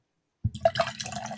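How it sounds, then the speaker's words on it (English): After silence, someone takes gulping swallows of Coke Zero, a close run of wet glugs and liquid sloshes lasting about a second. "You might hear a glug, glug, glug."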